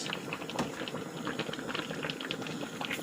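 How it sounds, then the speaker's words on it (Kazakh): A pot of bell peppers for lecho bubbles at a rolling boil, its dense, irregular blips and gurgles close and continuous. "Енді осы болгар бұрышын араластырып 10 минуттай қайнатамыз"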